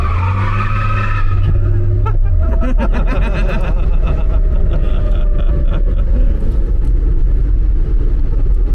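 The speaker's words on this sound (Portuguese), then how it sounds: "Nossa, faz barulho esse câmbio." Car gearbox whining and grinding while the vehicle drives, a loud continuous rumble with rising and falling tones, with a voice speaking briefly over it.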